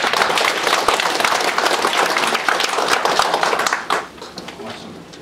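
A crowd claps steadily in dense applause for several seconds, then the clapping thins out and fades.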